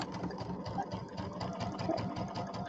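A sewing machine stitches a quarter-inch seam while piecing a table topper, a quiet, fast, continuous rhythmic whirring with a steady pulse, heard alone.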